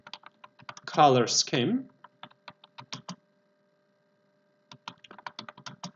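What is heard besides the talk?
typing on a computer keyboard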